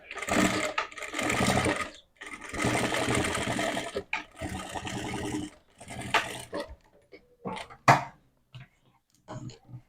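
A domestic sewing machine stitches a fabric lining in quick whirring runs, close and fairly loud, with pauses and some clicks and handling noises between the bursts.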